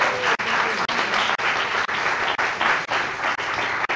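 Steady, dense audience applause fills a conference hall during a summer writing conference, a loud continuous roar of many hands clapping without a break for about four seconds.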